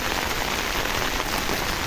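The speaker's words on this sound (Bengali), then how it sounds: "পানি পড়তেছে বৃষ্টির, সেটার সাউন্ডটা কত সুন্দর, মনে হয় টিনের ঘরে পানি পড়তেছে" Heavy rain drums on an umbrella outdoors during a school-ground downpour, a dense, even hiss of countless drops hitting the fabric up close, like rain on a tin roof.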